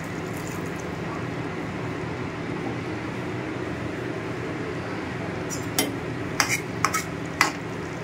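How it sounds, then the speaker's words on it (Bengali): Chicken curry being stirred in a pot after a paste of garam masala and fried spices goes in, giving a steady low scraping sizzle, with a few sharp utensil clinks near the end and no talking. "এটা একটু কষানো হবে।"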